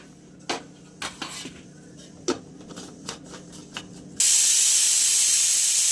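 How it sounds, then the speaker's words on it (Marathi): Coconut is ground fine in a mixer grinder for a drumstick vegetable masala. A few light clinks of utensils come first, then the motor starts with a loud, steady, rushing whir that holds to the end. "आपण हे खोबरं बारीक करून घेऊया."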